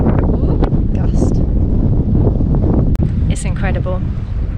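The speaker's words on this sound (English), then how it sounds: "We've just got the most gust." Strong wind gusts buffet a sailboat anchored with lines to shore by rocky Cycladic islands, a loud continuous roar with microphone buffeting and a sharp thump partway through, while people talk underneath.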